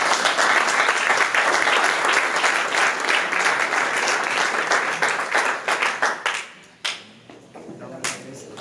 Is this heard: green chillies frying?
no